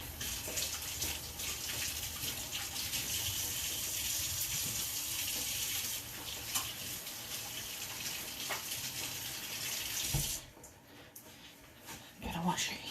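Water runs steadily from a kitchen tap for hand washing, a continuous broadband gush that cuts off around ten seconds, with soft talking underneath.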